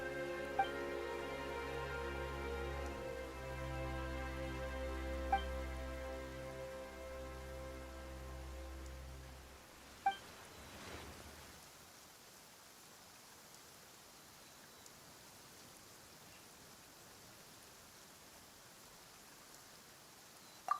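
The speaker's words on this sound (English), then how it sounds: "Why is it raining all of a sudden?" Sudden rain in the video game Genshin Impact, a steady soft hiss of falling rain that takes over once a held musical tone cuts off, with a few light drip ticks and no voices.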